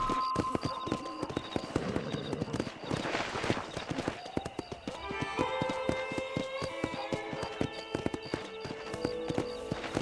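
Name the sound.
horse galloping in video game Red Dead Redemption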